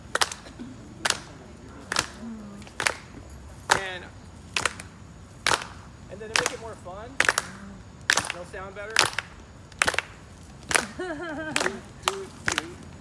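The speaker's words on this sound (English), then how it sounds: "We get like a clap going." A small group claps along in a steady rhythm, sharp hand claps spaced about once a second and continuing for several seconds, with people talking and singing between and over the beats.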